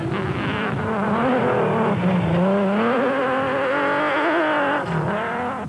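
A Nissan off-road race vehicle's engine in a 2004 desert race, revving loudly and continuously with a rising and falling buzzing whine, close and unbroken, with no voices over it.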